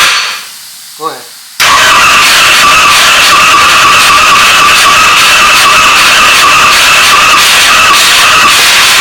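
A Ford 351 Cleveland V8 in a vintage race car bursts into life after a brief whine and a short squeal, then holds a loud, steady, raspy roar close by.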